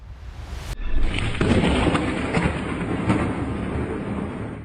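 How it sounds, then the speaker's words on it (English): A loud thunderclap bursts in after a brief quiet start, then rolls on as a sustained rumble with rain-like hiss, filling the remaining seconds with no voices. "It started with a loud thunderclap, shaking the area."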